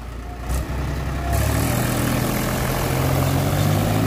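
A Mahindra 265 XP Plus tractor engine runs nearby, a loud steady diesel drone that swells and deepens after about a second and then holds firm.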